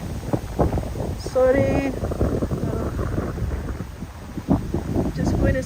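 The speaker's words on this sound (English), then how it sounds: "Oh, there's the wind." Wind buffets a handheld microphone outdoors at Stirling Castle in Scotland, a low gusty rumble running under a person talking throughout.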